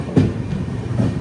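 Aboard the Cocanada SF Express (12776) as it runs through Samalkot without stopping, the rolling train gives a steady rumble with a couple of distinct wheel clacks over the rails.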